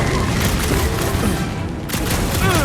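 Rapid gunfire from Rocket in Marvel's Guardians of the Galaxy game combat, a loud dense burst of shots and booms, briefly thinning before resuming, with no one speaking.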